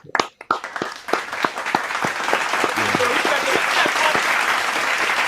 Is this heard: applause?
yes